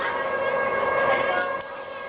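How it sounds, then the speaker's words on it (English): A steady, droning mechanical whine with a tonal hum from a tourist submarine's vertical thrusters runs throughout, easing slightly near the end, off Grand Cayman. "So if you're wondering what that sound is,"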